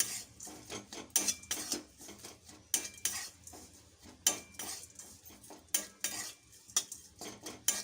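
Spice powder is stirred into a flour and sugar mixture for magaj laddu, a spoon scraping and clinking against a metal pan in quick irregular strokes, close by and without any voice.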